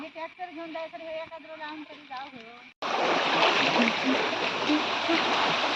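Hands and feet are washed in running water on a Konkan farm: after a stretch of voices, a loud, steady rush and splash of flowing water takes over and continues to the end.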